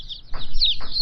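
Baby chicks peeping in a brooder of egg-layer chicks, a couple of short high-pitched chirps close by over a faint background.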